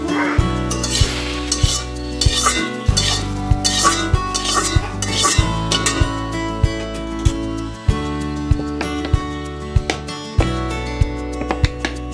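Taki fish, boiled beforehand, frying in oil in a pan, giving a steady hiss and sizzle with occasional stirring clinks, partly masked by prominent background music throughout.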